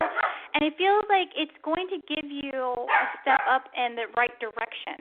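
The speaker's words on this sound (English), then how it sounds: "I do apologize for my dog barking here." A dog barks repeatedly in short, loud, pitched yips and bow-wows close by, overlapping a woman's speech indoors.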